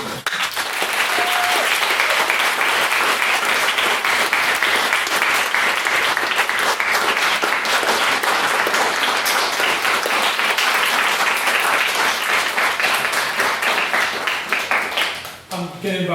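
Sustained audience applause fills the hall after a maiden speech at a university debate on the marketisation of higher education, loud and steady throughout, then tapering off right at the end.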